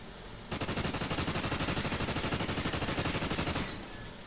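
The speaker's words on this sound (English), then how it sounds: "I'm getting shot at." Rapid automatic gunfire in the first-person shooter Call of Duty: Ghosts, a dense burst of evenly spaced shots lasting about three seconds, loud and close, then cutting off.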